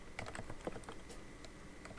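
Typing code on a computer keyboard during a Python programming lesson: quick, light key clicks in an irregular patter, close but quiet, with no talk.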